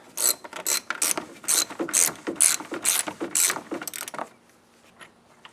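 A socket ratchet clicks in fast, loud bursts while loosening 10mm bolts on a Subaru overflow tank, then stops, leaving a faint hum.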